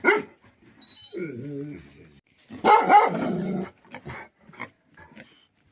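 A dog barks and yips in short bursts, with whimpering and some growling, mixed with a person speaking nearby.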